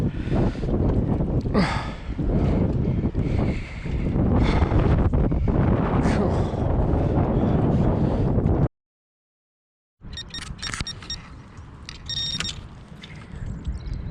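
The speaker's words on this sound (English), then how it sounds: "gale force blowing" Gale force wind blowing across a lake, heavy buffeting rumble and gusts battering the microphone, loud and constant, cut by a brief silence before resuming slightly weaker.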